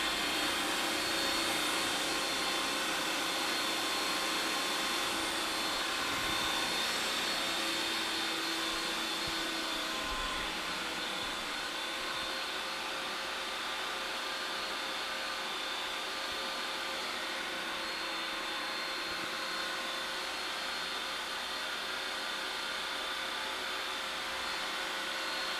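Ninja Creami machine churning homemade Dole Whip: a loud, steady, high-pitched motor whir that runs unbroken throughout, with no talk.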